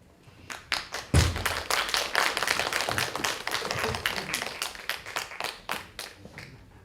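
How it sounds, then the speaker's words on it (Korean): An audience at a talk concert of music and art claps to welcome guests onto the stage, scattered taps building quickly into steady applause that slowly thins out. "여러분들 큰 박수로 환영해 주시기 바랍니다"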